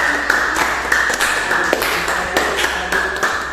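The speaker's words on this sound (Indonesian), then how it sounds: "Kita beri aplaus untuk kelompok" A small classroom group applauds after a presentation. The claps are sparse and irregular, sounding close and sharp over a faint steady background tone.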